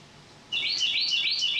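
A small wren gives a loud, bright call in a rapid run of high chirps, close and alone, starting after a brief quiet moment.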